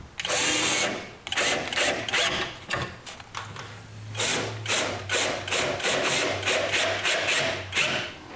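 Power drill driving screws into wooden drawer slides for a cabinet, in repeated loud bursts of whirring with short pauses, close by and without speech.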